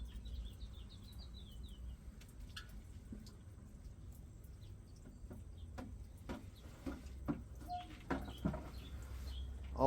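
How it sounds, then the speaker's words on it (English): Quiet birdsong at sunrise with scattered chirps and short calls, a trilling phrase early on, over a low background hum, fairly distant and faint. "The birds are singing now."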